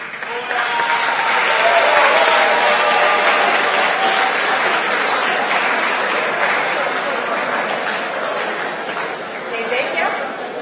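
An audience applauds a contest winner at a live creativity competition, with sustained, loud clapping that swells early and slowly eases, while a voice speaks over the crowd and some chatter mixes in.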